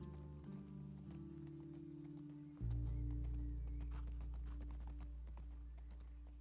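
A horse gallops in The Last of Us Part II, its hooves drumming in a steady clip-clop that swells louder partway through, with a neigh and a constant low rumble underneath.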